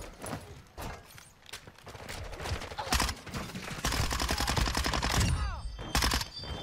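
Rapid automatic gunfire from a weapon in the Modern Warfare 2 video game, with bursts of sharp shots rattling loudly throughout and brief pauses between volleys, plus a few scattered in-game effects.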